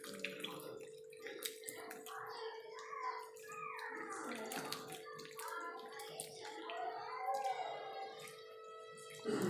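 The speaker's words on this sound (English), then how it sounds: "I'll clean the grasshopper also with warm water" Grasshoppers being washed in warm hot water by hand, with close splashing and sloshing that comes and goes, plus a steady hum running underneath.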